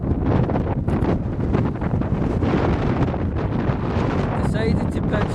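Strong wind buffets an exposed hilltop where a tent is being pitched, a steady loud roar that fills the microphone throughout.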